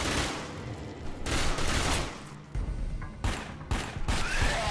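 Pistol shots in Dark Sector, fired in a loud burst of several sharp cracks and volleys, separated by short pauses and overlapping a constant rumbling background.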